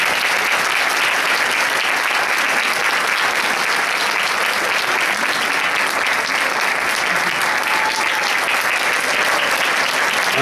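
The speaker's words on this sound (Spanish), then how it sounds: "pido un fuerte aplauso para los compañeros, las compañeras del Colegio de Danza" At an arts school graduation, the audience claps loudly and continuously for the dance college students, a thick wash of many hands at a steady level throughout with no speech over it.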